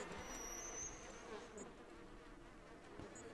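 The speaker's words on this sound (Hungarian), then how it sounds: "A legyeket csapkodom!" Flies buzz in the horror video game Outlast 2, a continuous close insect drone with whining passes near the ear, heard alone without talk.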